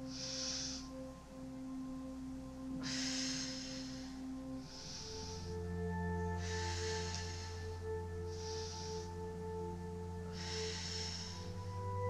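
Slow, deep breaths during a morning meridian stretching routine, about three full inhale-exhale cycles spaced a few seconds apart, soft and close over a steady low background hum.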